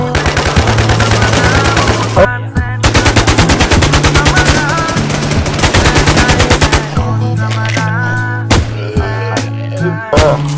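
Rapid automatic gunfire in the shooter video game Infestation, loud sustained bursts of machine-gun fire with brief pauses between volleys, over in-game background tones.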